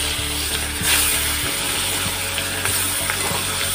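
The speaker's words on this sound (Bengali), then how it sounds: "তেলটা গরম হয়ে গেলে মাছগুলো তুলে দেবো" Koi fish frying in hot oil in a wok, a steady loud sizzle with soft bubbling and occasional light knocks, no voices.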